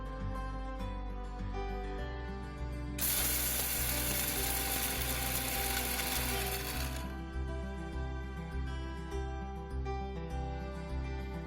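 Black pepper being ground in a mechanical grinder in a village kitchen, a loud rhythmic ratcheting whir with a harsher, brighter grinding burst in the middle, no voices.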